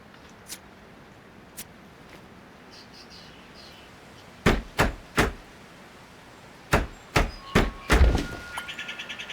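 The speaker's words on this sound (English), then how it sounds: "We're going to need our hammer." A hammer hits in the video game Rangers Path National Park Simulator as two quick runs of sharp thunks, three and then four, followed by a faster rattle of lighter taps over a quiet ambient bed.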